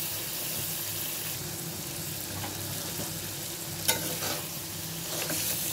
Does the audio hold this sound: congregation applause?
no